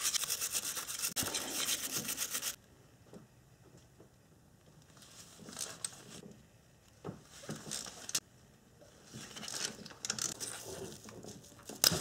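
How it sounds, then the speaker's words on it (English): A wire brush scrubs fasteners on a Toyota 1GR-FE V6 engine during a timing chain teardown, giving a dense, loud scratchy burst at first, then quieter intermittent brushing strokes and clinks close up. "So clean it off with a wire brush."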